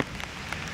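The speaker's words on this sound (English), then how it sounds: "Kind of out in the rain." Rain falls steadily outdoors near a rising creek during an August flood, a soft continuous patter with a few sharper drop hits, close and moderately loud, with no talking.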